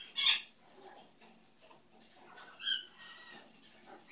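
A pet bird gives two short, high chirping calls, one at the start and another a couple of seconds later, with softer faint twitters between them in an otherwise quiet room.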